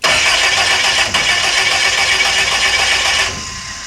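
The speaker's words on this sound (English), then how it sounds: "I added some fuel and tried to start the car for the first time." A long-lost Yugo prototype car, freshly fuelled, cranks and fires for the first time, a loud, close, rattling engine churn that holds steady for about three seconds, then drops into a quieter rough idle.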